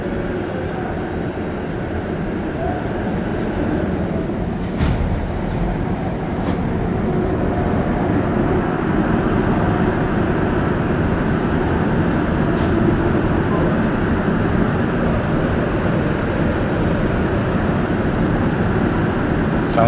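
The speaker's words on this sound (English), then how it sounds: "Another MR73 Metro train going in the Honorable Grand direction." A Montreal Metro MR73 train runs through the tunnel with a continuous loud rumble and rattle, with a few faint high squeals and clicks along the way.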